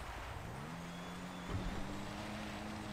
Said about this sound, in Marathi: गिअरमध्ये गाडी गिअरमध्ये आहे म्हणून आवाज असा आवाज करते